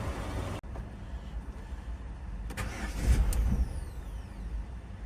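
An Opel Zafira B engine with an electrical fault cranks briefly with a whirring starter burst, then stops without catching, amid steady background noise.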